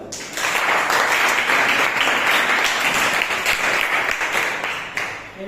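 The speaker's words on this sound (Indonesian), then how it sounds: "Kita beri tepuk tangan dulu." A class of students applauds after a group presentation in a classroom, a loud, close, continuous burst of many hands clapping that fills the room and fades slightly at the end.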